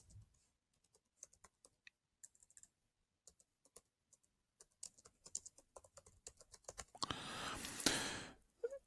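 A computer keyboard typing a note title in Google Keep, giving a scattered run of quiet, close key clicks that quicken and cluster, then give way to a louder rushing burst near the end.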